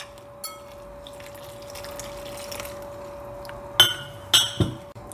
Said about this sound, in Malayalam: കുറച്ച് വെള്ളം ഒഴിച്ചിട്ട് ഇതിനൊരു തിക്ക് ബാറ്റർ ഉണ്ടാക്കിയെടുക്കാം.